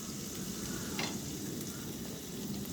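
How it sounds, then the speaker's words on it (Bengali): Onions fry with ginger and garlic paste in a pan, giving a faint, steady sizzle with light stirring throughout and no voices. "পেঁয়াজটা লাল লাল আভা আসলে তখন আমি আদা বাটা রসুন বাটা দিয়ে দিব। ভালো করে মিক্স করে নেব।"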